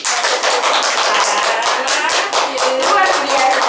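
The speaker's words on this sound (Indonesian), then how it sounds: "Oke, kita beri tepuk tangan dulu nih untuk" Group of teachers applauding a coaching demonstration, loud dense clapping sustained for several seconds, close and steady with no talk over it.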